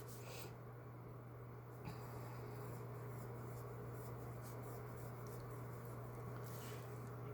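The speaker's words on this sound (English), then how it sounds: "Because when I write in cursive," Pen writing cursive on paper tilted at a slant, a soft continuous scratching and rubbing that runs steadily throughout at close range, with a low steady hum underneath.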